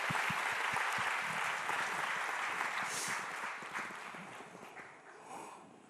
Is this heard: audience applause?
yes